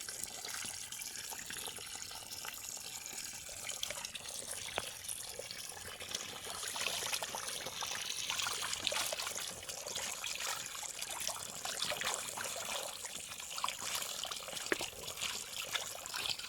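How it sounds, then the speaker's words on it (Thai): Village tap water pours into a fish tank in a steady, soft rush and trickle that continues without a break and sits fairly quiet and near. "ก็พอดีเติมน้ำเข้าแล้วนะคะ"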